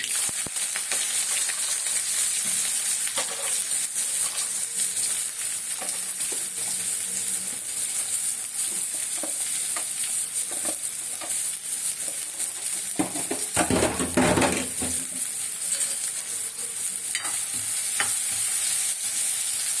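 Onions and curry leaves sauté in hot oil in a pan for a prawn gravy, a steady bright sizzle running throughout with scattered scrapes and stirring clatters, one louder burst of stirring near the end.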